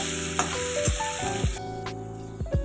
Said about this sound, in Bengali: এই যে আলুটা দিয়ে দিলাম, দিয়ে আলুটা সুন্দর করে একটু নেড়ে চেড়ে একটু বাদামি করে ভেজে নেব।